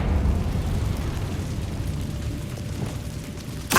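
Confringo fire spell explosion in Hogwarts Legacy: a deep, rumbling blast that fills the whole stretch with a sustained low roar, fading slightly before a sharp burst at the very end.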